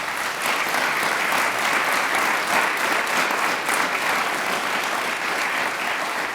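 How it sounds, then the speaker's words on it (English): A large audience applauds the civil rights movement at a university lecture on Dr. King's dream, a dense, even wash of many hands clapping together at steady volume throughout, with no talk over it. "I ask you to give the civil rights movement a round of applause"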